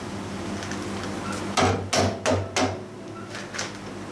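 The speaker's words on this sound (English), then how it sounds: "Rubber hammer, settle down." A rubber hammer taps a milled drive shaft part to settle it in a metal workshop, four or five dull, close knocks spaced about a third of a second apart over a steady machine hum.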